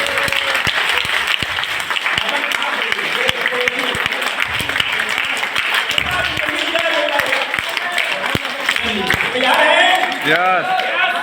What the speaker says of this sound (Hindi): सब लोग ताली खूब बजाना शुरू करते हैं